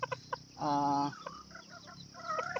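Backyard chickens clucking close by: several short clucks, then a sustained drawn-out squawk followed by more scattered clucks.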